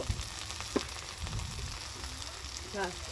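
Ginger and garlic go into a hot frying pan at an outdoor New Year's picnic cook-up, giving a steady soft sizzle with a few clinks and stirring noises, and voices nearby.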